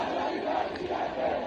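A protest crowd chants a Persian slogan proclaiming the final battle and Pahlavi's return, a dense, loud mass of voices swelling and falling in a steady rhythmic cadence.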